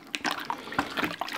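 Boiling water poured onto strawberries and sugar, eight litres for homemade strawberry wine, heard as a close, splashing, bubbling pour with irregular gurgles and no talk.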